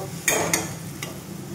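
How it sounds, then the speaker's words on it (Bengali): Water added to masala frying in a kadai for paneer matar bursts into a steady hiss, with two sharper spits right after it goes in and a fainter one later. "এবার ওতে আমি দিয়ে দেব আমার জল"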